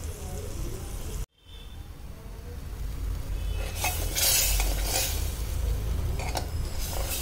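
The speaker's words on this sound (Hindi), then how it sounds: "दही डालने के बाद बिल्कुल भी नहीं छोड़ते हैं, बस चलाते रहिए।" A spoon scrapes and stirs curd gravy in a hot pan, with soft sizzling and intermittent metallic scraping close by and a brief pause early on.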